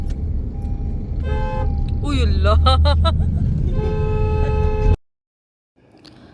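A car horn toots in quick repeated beeps amid a busy household, with overlapping voices and a child calling out close by before the sound cuts off abruptly.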